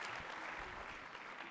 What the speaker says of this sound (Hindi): एक बार पूरा सदन तालियां बजाए